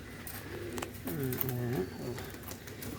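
Shiraz pigeons bathing give soft, low, rolling coos several times over a few seconds, close by and fairly quiet, mixed with light splashing and background voices.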